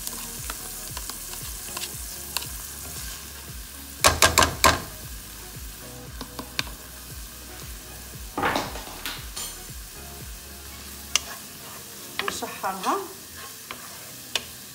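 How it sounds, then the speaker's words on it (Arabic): Diced onion frying in melted butter in a pan, a steady sizzle with stirring and a few loud utensil clatters against the pan near the middle. "غندير معلقه كبيره د الزبده تذوب. دابا بصيله خضاريه دغيا كطيب"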